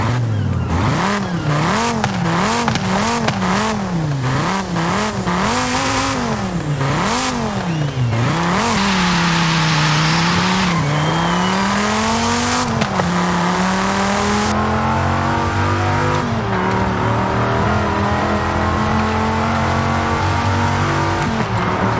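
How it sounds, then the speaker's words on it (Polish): A Dodge Viper's big V10 engine in Forza Horizon 5 revs hard through repeated rising and falling blips, then holds a sustained high howl as the car accelerates, loud and close with no talk. "Ale brzmi jak Viper typowo."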